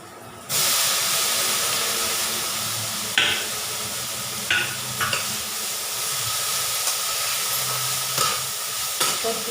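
Cluster beans with turmeric frying in a pan, a loud, steady sizzle and hiss that starts abruptly and holds throughout, close up, with occasional brief clinks and stirring scrapes and no talking.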